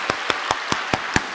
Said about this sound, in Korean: 여기까지 우리의 걸음을 은혜로 인도해 주신 하나님께 우리 감사와 영광의 박수 올려드립니다